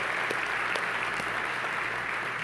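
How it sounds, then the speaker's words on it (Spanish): An audience at a Spanish-language church sermon applauds, a steady, even wash of many hands clapping at moderate volume with no clear gaps, a few individual claps faintly poking through. "A ver, un aplauso para ustedes"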